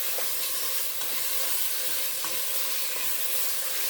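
Chili with petite diced tomatoes and green chili being stirred in a hot pot, a steady sizzle and frying hiss broken by a few soft scraping strokes of the spoon, heard up close with no talking.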